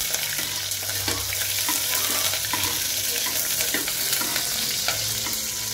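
Spam and onions frying in a pan while being stirred, a continuous close sizzle with scattered spatters and pops and occasional scrapes of the utensil.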